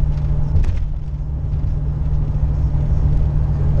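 A 1995 Ford Bronco V8 on cruise control at about 58 mph climbing a hill, its engine a loud, steady low rumble with road noise from inside the cab and no clear shift change.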